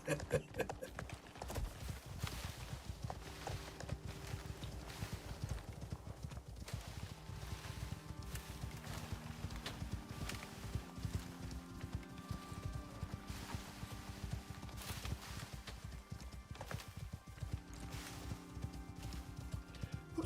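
Horses gallop in a race in the survival video game Icarus, their hoofbeats a fast, steady, continuous clatter running the whole time over a layer of sustained background tones.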